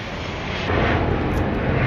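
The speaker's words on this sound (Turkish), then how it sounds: "Evim havalimanına yakın olduğu için sürekli uçak geçiyor çekim yaparken." A fixed-wing airplane passes overhead near an airport, its steady broadband engine roar swelling louder partway through and holding for the rest, with no voices.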